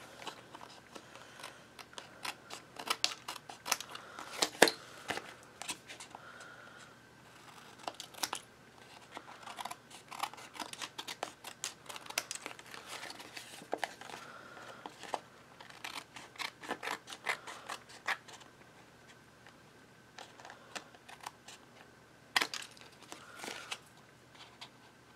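Scissors snip and trim a paper mat for a mini album, faint close cuts scattered over a quiet background along with light paper rustling, with no talking.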